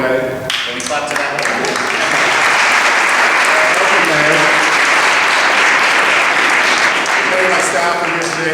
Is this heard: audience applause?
yes